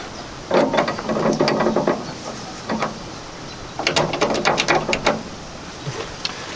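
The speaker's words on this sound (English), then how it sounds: "What I've done is just slackened the mounting bolts just a tad." A ratchet slackening the mounting bolts on a car gives two bursts of rapid clicking, a short pause with a brief tick, then another longer run of clicks, close and fairly loud.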